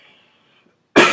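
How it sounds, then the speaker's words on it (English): A single loud, harsh cough bursts out at the end after a near-silent stretch, close to the microphone. "I just coughed all over my cat."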